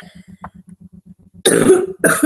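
Two loud, harsh coughs burst out close by near the end, after a stretch of quiet with a low rhythmic pulsing in the background.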